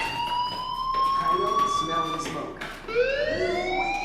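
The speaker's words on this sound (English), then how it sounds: "Hey, do you hear that fire alarm?" A school fire alarm rings in the video game Life is Strange, a loud steady electronic tone that restarts with a rising sweep near the end, while a voice speaks over it.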